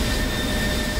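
Steady broadband roar of a jet plane engine in a combat flight video game, an F-16 fighter matched against a MiG-31, holding loud and even for the whole second with no talk over it.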